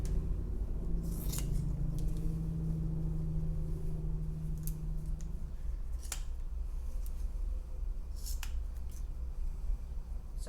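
Scissors snip through fabric sleeve binding in a handful of crisp, separate cuts, close and fairly clear over a low steady background hum, with no talking.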